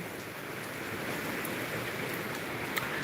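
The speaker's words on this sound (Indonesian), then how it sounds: "Kondisi cuaca lagi hujan lebat di depannya." Heavy rain outside a small shop in Palembang, South Sumatra, a dense continuous hiss of downpour on surfaces, steady and fairly close, with an occasional faint click.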